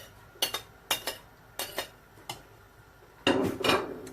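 A utensil stirs chicken and peanut stew in a metal pot, making four quick clinking scrapes at a steady rhythm, followed by a longer, louder scraping sweep; close and fairly quiet, with no talk.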